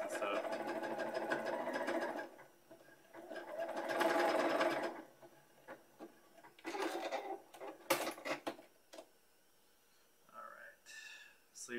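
A sewing machine stitches a sleeve of a bomber jacket in bursts of steady whirring, loudest in two long runs early on, then shorter spurts separated by quiet handling sounds.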